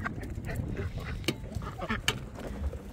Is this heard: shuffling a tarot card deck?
no